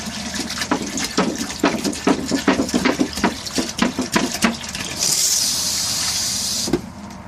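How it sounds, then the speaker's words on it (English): Water pours from a jug down into the black tank of a Rockwood Mini-Lite 2109S RV, glugging in rapid uneven bursts, then becomes a smooth steady hissing flow before stopping. "And I'm going to run this down in. And I want to run about a gallon, of water."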